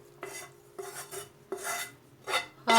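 A metal spoon scrapes and clinks against a pan while sautéed diced meat is spooned onto potato-filled dough for a layered kömbe, in four or five short scraping strokes with quiet pauses between them.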